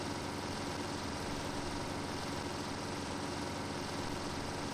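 A car engine idles in the driving game The Long Drive, a steady low droning rumble that stays even and moderately quiet throughout with no revving.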